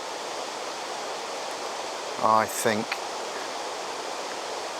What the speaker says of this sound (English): because it's pouring with rain